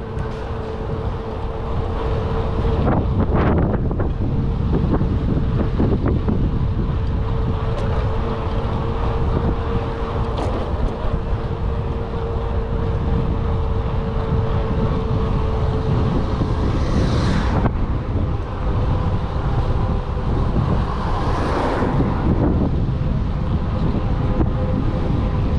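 Strong wind by a riverside roars and buffets steadily throughout while cycling, a loud, continuous low rumble with occasional gusty surges, no voices.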